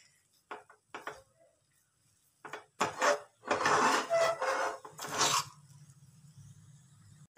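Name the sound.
stirring sweet ladoo mixture in a pan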